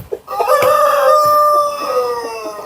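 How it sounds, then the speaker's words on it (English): White Colombian Brahma chickens on a farm in Kajiado: one bird crows loudly and close by, with scattered clucks around it. "Yeah, these are tame chicken. It's These more are of a white pet. Colombian. Yes. White Colombian chicken."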